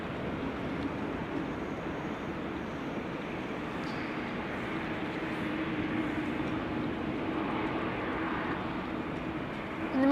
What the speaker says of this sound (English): Embraer 175 going to Krakow, lined up over here